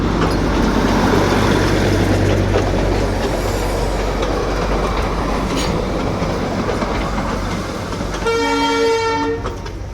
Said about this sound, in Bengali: টয় ট্রেনটা এখন ছাড়।